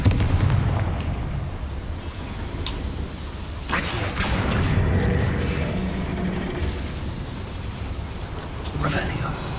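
Confringo explosion spells in Hogwarts Legacy burst inside a mine with booming blasts and sharp cracks over rumbling game noise, while someone talks.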